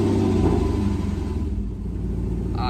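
A cold 345 Hemi car engine, low on gas, rumbles loud and deep right up close in a driveway, the idle easing slightly before a brief rise at the very end.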